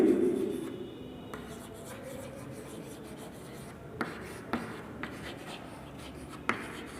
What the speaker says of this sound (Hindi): तो यहाँ पर लिखेंगे द एबव पैसेज